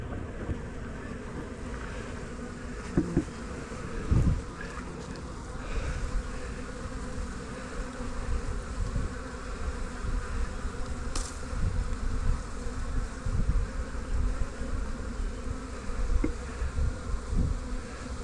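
Honey bees swarm and buzz around an opened hive while the hive floor is changed and a honey super is added, a dense steady drone close by with light wind noise and no speech.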